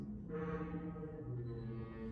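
A deep, resonant, horn-like bellow, a simulated Parasaurolophus crest call, drones steadily for about two seconds, low and hollow like a foghorn, fairly faint.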